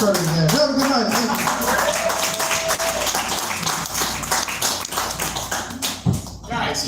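Audience at a live stand-up comedy show in a downtown Melbourne, Florida coffee house clapping and cheering while a voice talks over the crowd, the applause thinning toward the end.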